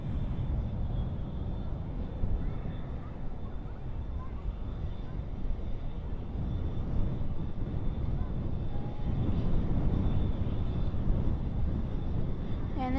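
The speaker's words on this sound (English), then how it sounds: "And there's that nose up on that CRJ 900. And there it goes up in the air." A CRJ 900 ER regional jet lifting off at night at Dallas/Fort Worth International Airport gives a moderate, continuous engine rumble that builds slightly toward the end, heard from a distance without talk.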